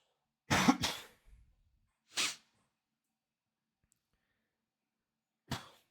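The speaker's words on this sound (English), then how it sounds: "Sorry, I got a cough real quick." A few sharp coughs close by: a quick double cough, a single cough a moment later, and another after a pause, with silence between.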